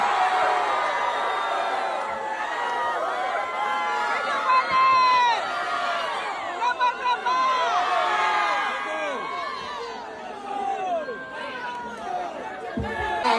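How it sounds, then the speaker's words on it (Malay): A large crowd at an outdoor campaign rally in Meulaboh cheers, whoops and whistles amid constant chatter, with excited shouts rising and falling throughout. "Kita beri tepuk tangan yang paling meriah untuk anak kita Jebul"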